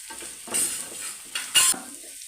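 Curry leaves frying in a pan for Kerala egg thoran crackle and sizzle nearby, broken by a few louder stirring scrapes and bursts of spitting oil.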